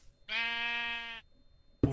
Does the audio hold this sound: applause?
no